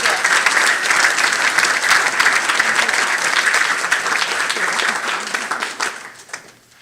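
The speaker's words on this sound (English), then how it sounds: "One more round of applause for those who were able to make it." An audience at a school board meeting applauds with steady, dense clapping that holds for several seconds and then thins and fades out toward the end.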